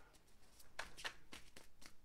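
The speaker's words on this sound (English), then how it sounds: "I have to hold it closer so I can really shuffle these cards" Tarot cards are shuffled close by in quick, repeated papery riffles and flicks, a steady run of short crisp bursts at moderate loudness.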